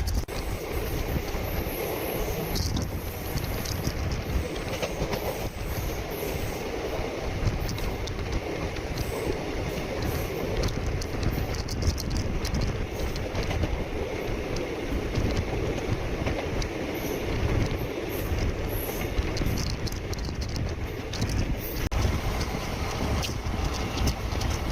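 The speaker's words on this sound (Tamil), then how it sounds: "double 2646 Ahalya Nagari super fast express Thiruvananthapuram north to" A double-decker superfast express train, running from Thiruvananthapuram North to Indore, rumbles past with a steady, loud, continuous roar of wheels and carriages, heard with wind buffeting the microphone throughout.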